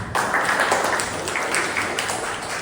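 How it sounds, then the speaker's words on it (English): Steady applause from a small Toastmasters club meeting audience, an even wash of claps at moderate level, continuous for a couple of seconds. "for the round of applause, please"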